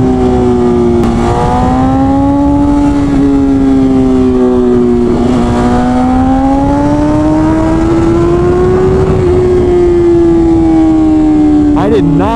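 A BMW S1000RR with a Stage 2 flash roars loudly and steadily under riding load, its exhaust note rising and falling through long pulls with quick shifts, the engine close and dominant throughout.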